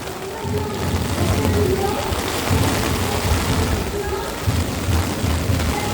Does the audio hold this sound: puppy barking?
no